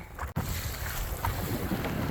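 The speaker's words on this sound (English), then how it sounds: "It's just too windy." Strong wind buffets a microphone on rough water during a kayak fishing outing, a loud, steady roar with gusty swells and a brief dropout early on, no voices.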